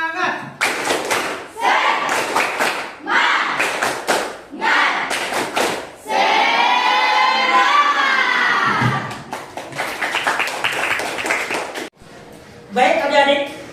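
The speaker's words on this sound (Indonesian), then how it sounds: "Tepuk semangat." Classroom of children doing the tepuk semangat spirit clap, bursts of rhythmic clapping and thumping in patterned sequences alternating with a chanted shout, voices mixed in.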